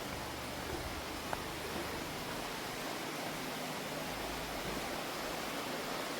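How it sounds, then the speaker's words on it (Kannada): A forest river flows near an old bridge, a dense, steady broadband rush of water close by that continues without a break, with no voices over it. "ಅಲ್ಲ ಫಾಲ್ಸ್ ಅಲ್ಲ, ಇದು ರಿವರ್. ಒಂದು ಒಳ್ಳೆ ಫಾರೆಸ್ಟ್ ರಿವರ್."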